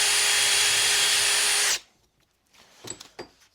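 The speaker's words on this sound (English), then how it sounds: "Let's drill these out. I'm going to slightly oversize them." Power drill boring out and slightly oversizing holes in a Sealey 12V battery charger, a loud steady whine that cuts off abruptly, followed by a few soft handling knocks.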